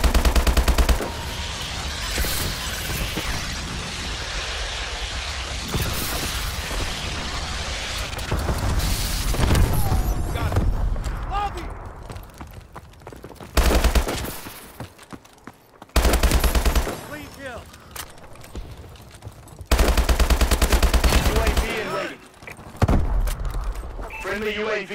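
Sustained heavy gunfire and machine-gun bursts in Call of Duty: Advanced Warfare, loud and close with booming impacts and brief pauses, mixed with voices calling out during combat.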